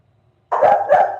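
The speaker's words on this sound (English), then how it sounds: "My dog's barking at something." A dog barks twice in quick succession, close and fairly loud, after a short quiet stretch in a home setting.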